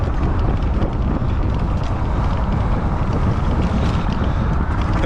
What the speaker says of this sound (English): Feel the wind between my beard.